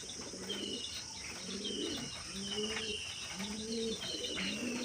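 Young pigeons at a home loft coo in repeated soft, rolling calls, one after another in a steady rhythm, close by, with a few faint chirps and no talking.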